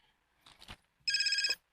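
A cellphone rings with a short, bright electronic trill lasting about half a second, loud and close, after a few faint rustles and soft sounds.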